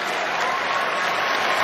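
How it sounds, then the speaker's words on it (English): A large arena crowd at a WWE Raw wrestling show in Boston roars and applauds: a loud, dense, steady wall of cheering that swells slightly and never drops away. "The crowd here igniting."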